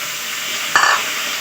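Ridge gourd and potato pieces being stirred and frying in a pan, a steady hiss of sizzling oil with one short scraping stir partway through, close and clear with no talk.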